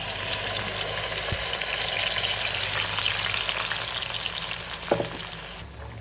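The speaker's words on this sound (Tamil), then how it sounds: "எண்ணெய் காஞ்சிடுச்சு, நம்ம வந்து அரைச்சதை வந்து ஆட் பண்ணிக்கலாம்." A loud, steady sizzle of ground masala paste frying in hot oil for prawn gravy fills the whole stretch, with a couple of faint clinks from a utensil and no talking.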